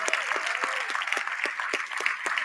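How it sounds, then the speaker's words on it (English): Award ceremony audience for a service design prize breaks into applause, a dense, steady patter of many hands clapping close by with a faint clear beat underneath. "please give a big round of applause to Alyssa Millinson and her design team."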